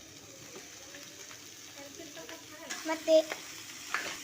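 Onions and eggplant fry in oil with a faint sizzle under soft stirring and clinks, building into a few louder scrapes near the end, while a voice briefly says a word.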